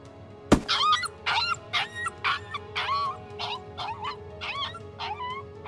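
In the video game Tiny Bunny, a dog yelps once sharply after a thud, then whimpers in a steady series of about ten high, whining cries, close and clear.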